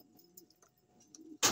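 Breeder pigeons in a loft at night give soft, low cooing calls that stay faint and close over a quiet background, then a sudden loud burst of noise cuts in at the end.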